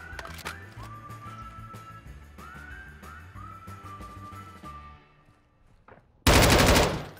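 Rapid gunfire crackles through an online shooter video game round, with dense bursts and whistling effects, then a pause and a sudden loud final burst near the end.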